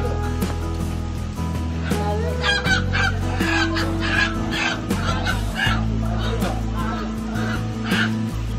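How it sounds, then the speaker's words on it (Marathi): A rooster at a Konkan village fair clucks and squawks in short bursts amid voices, horn-like tones and a busy, noisy crowd. "हा दुसरा कोंबडा"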